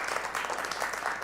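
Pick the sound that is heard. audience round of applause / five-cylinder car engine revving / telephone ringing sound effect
audience round of applause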